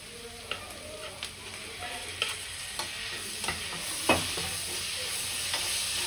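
Chopped tomato and curry leaves frying in oil, a soft steady sizzle under irregular scraping strokes of a spoon stirring the pan, fairly close, with no voice.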